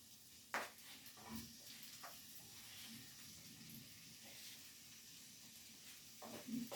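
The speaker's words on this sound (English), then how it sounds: "I'm going to brown the sausage a little." Sausage browning in a pan with olive oil, a quiet steady sizzle and hiss with occasional soft clicks and pops, close but faint.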